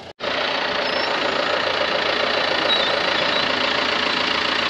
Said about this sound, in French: Valentin, il baisse le relevage euh, du tracteur, de relevage complet.